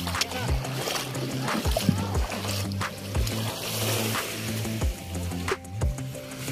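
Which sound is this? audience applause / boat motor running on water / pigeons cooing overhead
boat motor running on water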